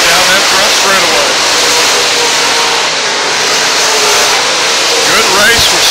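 ULMA late model race cars roar side by side down the front straightaway at State Fair Speedway, a loud, dense engine drone that swells and passes close by, blended with a track announcer's voice.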